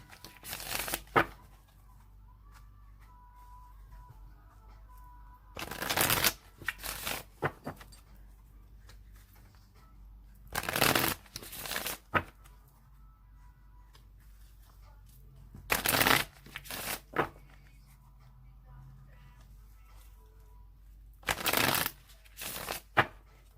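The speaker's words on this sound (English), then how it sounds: "I'm going to shuffle it 3 more times." Tarot cards are shuffled in five separate bursts of crisp riffling and flapping, each lasting a second or two and separated by quiet gaps, close and clear.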